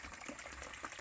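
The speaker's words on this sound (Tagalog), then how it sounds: "Ito dito nang gagaling yung tubig. Diyan sa parang bukal." Water flows and gurgles continuously from a natural spring beside a creek, a soft, steady splashing trickle heard close and alone for a brief moment.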